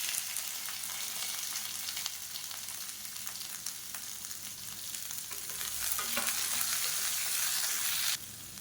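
Sliced onions and dried red chillies sizzle and fry in a pan for chutney, with a steady close crackle and occasional stirring scrapes. The sizzle grows slightly louder near the end, then drops off.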